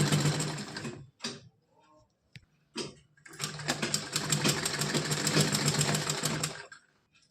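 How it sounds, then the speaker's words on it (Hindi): A sewing machine runs in short bursts, then one long steady stitching run, its rapid mechanical chatter close and clear, while a dress for a Laddu Gopal idol is stitched. "तो मैं यहाँ पे सिलाई लगा के दिखाऊंगी"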